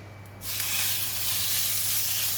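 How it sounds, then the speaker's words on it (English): Pork belly hits hot garlic oil in a pan, breaking into a loud, steady sizzle that starts abruptly and holds unbroken over a low hum. "When the oil is hot, I'm going to put in the pork belly."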